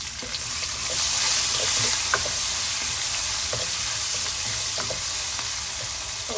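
Onion frying in a pan for Fiji-style aloo matar curry, a loud, even sizzle that holds steady throughout, dotted with small pops and light stirring taps, with no voices.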